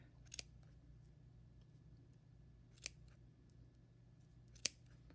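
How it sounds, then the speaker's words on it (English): Scissors snipping through the tied yarn of a handmade pompom: a few sharp, close cuts, a quick double snip, then two more isolated snips over quiet background hum. "I'm going to take my scissors and I'm going to cut open"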